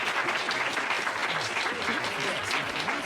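An audience in a performance hall bursts into sustained applause with cheering voices, a dense steady wash of clapping throughout.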